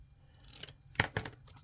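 Scissors make a few quick snips through paper for a small tag storage holder: two or three close, crisp cuts in quiet surroundings.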